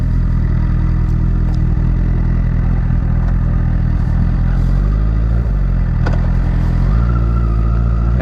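Honda CBR1000RR motorcycle engine running up close and loud, its tone rising and falling as gears change, with a few mechanical clicks and clunks between shifts.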